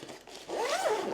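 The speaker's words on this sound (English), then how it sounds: "This bit here zips off." A detachable section of a large Tripp Holiday 8 suitcase being unzipped, with a single smooth, rising zipper pull lasting about a second, close and fairly quiet, with no talking.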